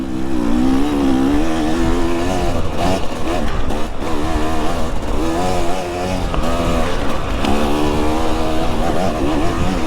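A motorcycle rides a muddy winter trail, its engine loud and close throughout, revving up and down in surges as the throttle changes, with no talk over it.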